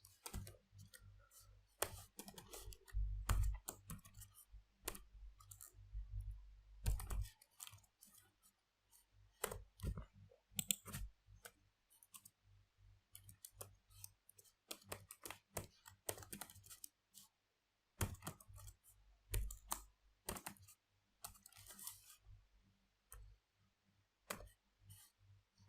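Someone types on a computer keyboard while entering product details into a database tool, with bursts of quiet, close key clicks separated by short pauses and a low hum underneath.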